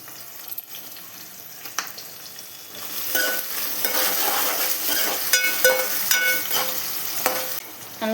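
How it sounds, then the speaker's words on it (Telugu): Onions and green chillies frying in oil for a chicken curry, starting with light scattered clicks, then a steady close sizzle with spatula scrapes and metallic taps against the pan, no speech. "ఇవన్నీ మంచిగా బ్రౌన్ కలర్లో ఫ్రై అవ్వాలి ఆనియన్స్."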